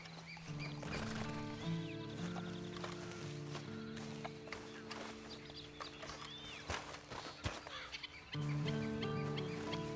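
Horse hooves clip-clop among chicken clucks and other farmyard sounds in the video game Red Dead Redemption 2, with a low musical hum underneath; no clear whinny stands out.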